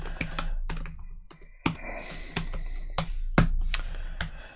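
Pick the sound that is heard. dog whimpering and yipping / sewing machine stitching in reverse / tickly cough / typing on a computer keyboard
typing on a computer keyboard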